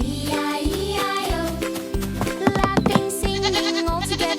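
Goat bleating over a bouncy children's farm song, with a few short bleats mixed into the steady musical backing.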